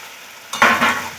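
Fried pointed gourd pieces dropped into a pan of cooked-down spice paste, setting off a sudden loud sizzle that keeps hissing while they are stirred, then a second burst of frying.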